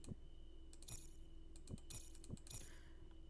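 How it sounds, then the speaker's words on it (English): Keys jangling inside a video game, a few short bright metallic clinks and rattles spaced apart over a quiet low hum, close and fairly soft, with no talking. "I'm guessing the key noise means"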